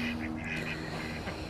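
Ancona ducks that have got out of their pen give off several soft quacks over a steady background hum, heard from a moderate distance with no voices.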